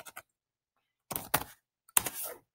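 A few crisp computer keyboard keystrokes in short bursts, typing the hostname command into a terminal logged in to an Ubuntu 18.04 server, close and fairly quiet with gaps of silence between them.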